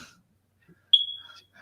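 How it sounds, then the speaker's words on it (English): A smoke alarm gives a single short, high-pitched beep in the background, with quiet faint sounds before and after it in an otherwise silent room. "alien drone services noticed the alarm, the smoke alarm in the background"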